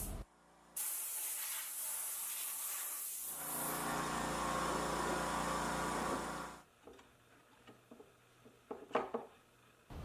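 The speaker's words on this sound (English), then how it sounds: "an air-powered rotary file made quick work of the pocket" An air-powered rotary file cuts a clearance pocket into a CNC-routed base plate for a motorized camera track dolly, a loud sustained hissing, grinding whine that runs for several seconds before stopping, followed by quieter clatter.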